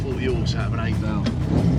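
An ex-racing Mk1 VW Golf's 240bhp eight-valve engine on twin 45 carburettors revs hard and loud, its pitch sweeping up and down in quick repeated blips close by.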